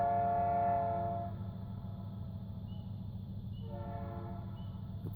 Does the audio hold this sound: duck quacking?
no